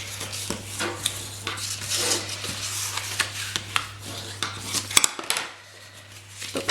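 Bone folder rubbing and burnishing along folded score lines on cardstock for a handmade shadow box gift box, a busy run of close scraping and tapping strokes with a steady low hum underneath, ending in a quieter pause.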